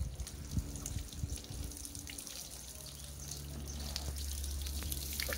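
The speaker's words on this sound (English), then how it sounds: "the water is still just coming straight off the car" Water sheeting and dripping off a ceramic-coated car's paint and plastic trim outdoors, a quiet, continuous trickle with scattered drips, faint and without speech.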